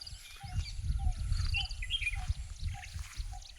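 Birds chirp and call in a village forest, with short, faint tweets scattered over a low rumbling background, fairly distant and intermittent.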